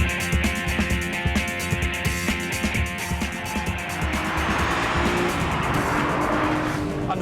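A Renault Clio V6 lapping the Circuit d'Albi racetrack, its engine roaring loud and close as it revs hard and shifts, with brief tyre squeal mixed into the continuous drive.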